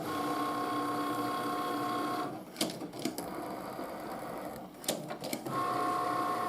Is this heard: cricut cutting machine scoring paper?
yes